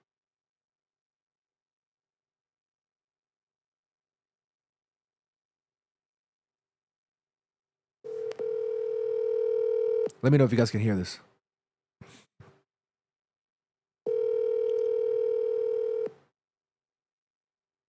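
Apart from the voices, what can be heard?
phone call ringing out, outgoing call tone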